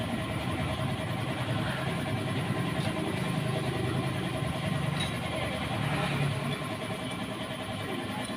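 A motorcycle engine idles smoothly and steadily at close range, a constant even rumble that carries on throughout while people talk over it.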